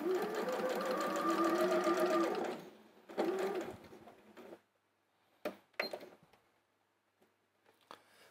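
Sewing machine stitching a quilt block runs loudly and steadily for a couple of seconds, then gives a shorter burst before stopping, followed by a few sharp handling clicks and knocks against near silence.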